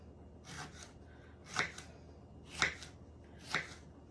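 Vegetables being sliced into rounds on a cutting board, four crisp knife chops spaced about a second apart, close and fairly quiet with nobody talking.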